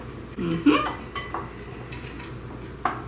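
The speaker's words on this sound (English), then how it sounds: "take your whisk and combine all of this together" Metal whisk clinking against a bowl while combining flour, baking powder, salt and a pinch of nutmeg for baked vanilla donuts; a few sharp, close taps and scrapes with quiet gaps between them.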